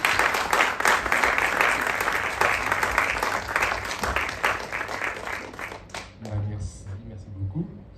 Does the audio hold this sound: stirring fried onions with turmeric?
no